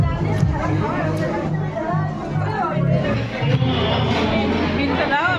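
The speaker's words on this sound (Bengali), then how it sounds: "এখানে এত ভিড়" Crowded restaurant at Butterfly: constant dense babble from many diners talking all at once, steady and close, with no pauses throughout.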